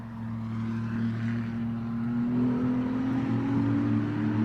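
A Ferrari Challenge race car at Watkins Glen drones steadily under braking and power, its engine tone holding and slowly rising at moderate distance, with no voices.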